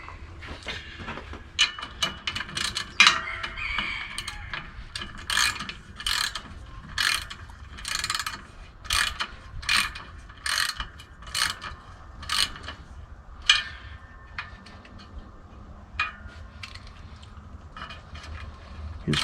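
A ratchet wrench clicks in repeated bursts while bolts are tightened on the clutch of a Ford 641 tractor, close and fairly loud, with rhythmic pawl clicking and short pauses between strokes.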